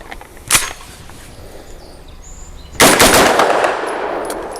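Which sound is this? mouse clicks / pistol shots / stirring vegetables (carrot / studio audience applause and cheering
pistol shots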